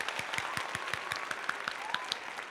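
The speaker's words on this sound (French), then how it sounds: "magnifique ma belle, on applaudit." Studio audience applauding on a French celebrity gossip talk show, a steady run of crisp hand claps at moderate level, evenly spaced and continuing throughout without voices.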